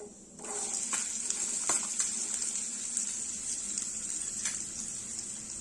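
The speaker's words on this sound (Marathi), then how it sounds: "तेल इथे बऱ्यापैकी गरम झालेलं आहे यामध्ये आपण घालणार आहोत जिरे त्याचप्रमाणे कांदा" Cumin seeds and onion hit hot oil in a pan and set off a steady sizzle, a bright hiss that starts suddenly and carries on evenly, with a few sharper crackles.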